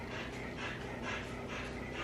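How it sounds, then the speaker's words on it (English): A dog pants indoors with rapid, rhythmic breaths, close and steady throughout with no talking. "Not my dog coming in here panting"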